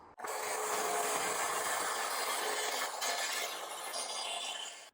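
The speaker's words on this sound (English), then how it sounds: "So what I'm going to do is just run the saw all the way down." A track saw cuts along a splinter guard on its track, a loud, close, continuous whining rasp that starts abruptly and holds steady for several seconds with no talking.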